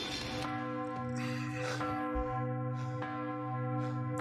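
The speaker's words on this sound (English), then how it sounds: "It's that bell, it's distracting." A church bell tolls steadily in a film soundtrack scene, its sustained ringing tones layered over a dense orchestral and ambient bed, loud and continuous with no talking.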